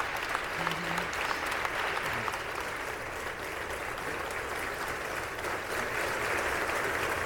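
A long standing ovation for a departing Democratic Party leader in the U.S. House chamber, dense sustained clapping from a large crowd that holds steady and loud throughout.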